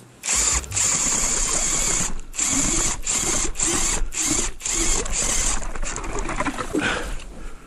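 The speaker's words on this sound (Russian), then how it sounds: "сейчас он сверлит, нет?" An ice drill bores a hole through river ice in February, a loud continuous grinding whir broken by several short pauses as the auger cuts, with no talk.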